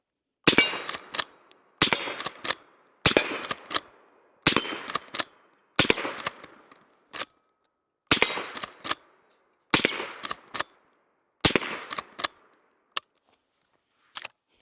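A Smith and Wesson 1854 lever-action rifle fires about nine loud, sharp shots outdoors, each crack followed by quick metallic clacks of the lever cycling, spaced roughly a second and a half apart with short ringing decays.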